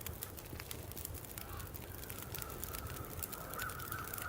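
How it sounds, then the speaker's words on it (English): Faint crow caws in the video game The Long Dark sound against a dense, noisy background hiss, distant and intermittent, with no speech. "you freaking crows"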